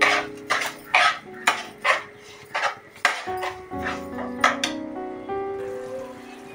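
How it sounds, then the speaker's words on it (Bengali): A spoon stirring papaya halwa with sugar in a pan, giving a steady rhythm of bright metallic clinks and scrapes, roughly two per second, close and clear with a soft background hum. "এবার ভালো করে নেড়ে চেড়ে নেব।"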